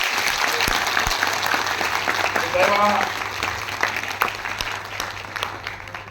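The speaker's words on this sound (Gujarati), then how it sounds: "એમને જોરદાર તાળી પાડીને સન્માન કર્યું" Audience applause at a Leuva Patidar community gathering in Patan, a steady sustained clatter of many hands filling the room throughout, with a brief voice heard partway through.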